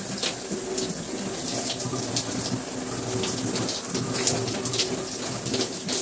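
Shower water runs steadily onto low-porosity hair, a continuous hissing spray with small splashy variations and no speech.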